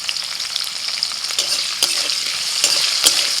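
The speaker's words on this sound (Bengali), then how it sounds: "হালকা করে ভেজে ক্যাপসিকামগুলো তুলে নিচ্ছি।" Capsicum pieces fry in hot oil with a steady broadband sizzle, while a utensil stirs and scrapes the pan in a few sharp clicks and knocks, close and fairly loud, with no voices.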